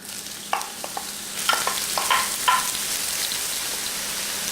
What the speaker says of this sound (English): The oil is hot. We're going to add green onion, white parts only, to cook for 1 minute